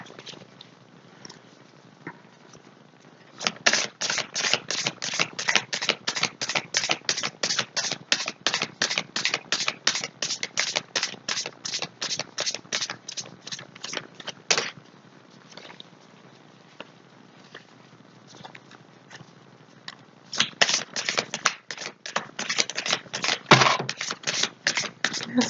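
Tarot cards are shuffled in rapid, continuous riffling bursts, a long dense run of close crisp card flicks followed by a pause and another shorter flurry, with no talk over it.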